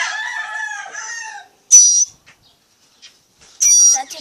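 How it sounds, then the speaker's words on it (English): A baby bird feeding gives shrill, high peeping calls in two loud, close bursts after a softer stretch of chirping, with quiet gaps between. "That's a baby bird eating"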